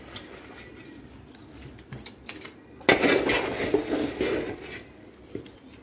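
A spoon scrapes and clinks against a metal pot while ghee is stirred into chicken tehari, soft at first then louder, wet clattering strokes that continue steadily to the end.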